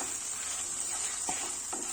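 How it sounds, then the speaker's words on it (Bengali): Green chillies fry in hot oil in a pan with a steady, even sizzle, and a couple of soft stirring scrapes come through. No one speaks. "এবার লঙ্কাটাকে আমি ভাজবো"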